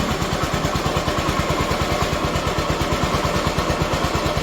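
A Honda ST90 motorcycle engine running in gear, a loud, close, steady rapid thumping putter with slight clatter, continuous and free of talk.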